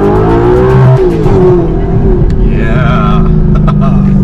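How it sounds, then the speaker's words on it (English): An Audi R8 with a Supersprint race exhaust, KW suspension and EMC wheels revs hard nearby, its loud engine note climbing and falling while a voice speaks briefly over it. "let me get the RPM a little bit higher"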